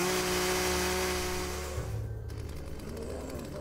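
A chainsaw-wielding zombie in the video game Dead State makes a steady, loud mechanical drone that fades and shifts midway into a rougher, grinding buzz with no talking.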